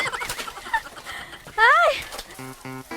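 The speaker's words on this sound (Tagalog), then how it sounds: "Ito na yung mga nahuli ko na native chickens." Native chickens squawk and cluck as they are caught by hand, with one loud, wavering squawk in the middle and short clipped clucks near the end, mixed with nearby voices and rustling.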